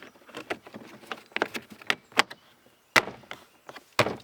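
Interior door trim piece on a Pontiac Solstice snapping into place by hand, a series of short plastic clicks and knocks, close and fairly quiet, with two sharper snaps near the end.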